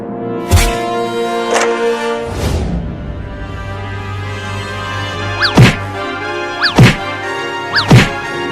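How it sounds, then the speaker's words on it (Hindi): Repeated heavy thuds of a cat banging against a door, a few dull bangs early and then a cluster of three more, each with a rattling resonance. "वो कमीनी बिलार दरवाजे को कैसे मार रही है, लगता है जैसे तोड़ ही देगी।"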